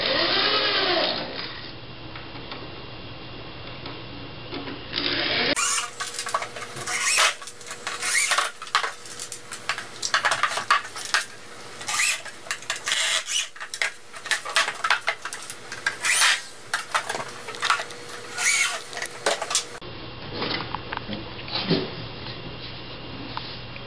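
A power drill drives short screws through plywood into 2x4 formwork, a run of rough grinding bursts and buzzing whirs repeating for about fifteen seconds between quieter stretches.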